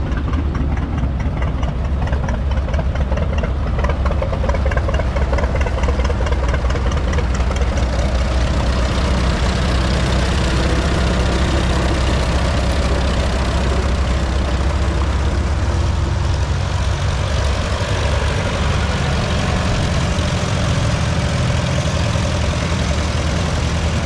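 A 1941-era Farmall 350 tractor with spin-out rear wheels idles steadily at a show, a continuous low, loud engine rumble with faint knocking and no talking.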